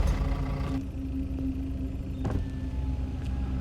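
Car stopped at a police checkpoint at midnight on a road from Goa toward Kolhapur: a steady engine idle rumbles throughout while an electric power window whirs down, with a couple of brief clunks.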